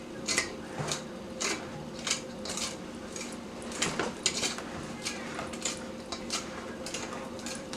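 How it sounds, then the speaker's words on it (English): Spatula scraping blueberry pound cake batter ingredients off the side of a mixing bowl, a run of repeated clinking scrapes and taps at a roughly regular rhythm, close and fairly clear. "I want to make sure I scrape all of this ingredients off of the side."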